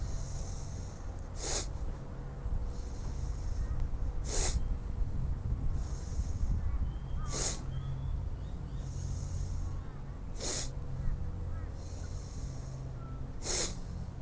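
Forceful bhastrika bellows breathing during a yoga practice, with five sharp, loud exhales spaced about three seconds apart over quiet room tone between them.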